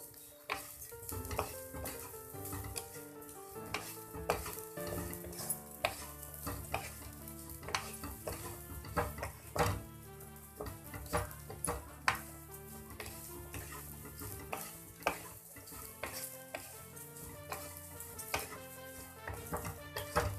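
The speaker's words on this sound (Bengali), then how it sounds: "দিয়ে আমি এটা ভালোভাবে ভাজতে থাকবো" Flattened rice (chire) with salt fries in a pan, stirred constantly: rapid, dense scraping and rattling strokes over a soft sizzle, close and steady throughout, with no voices.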